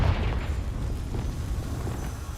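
A Confringo spell explosion in Hogwarts Legacy, a dense rumbling boom that opens loud and keeps rolling as a crackling burst.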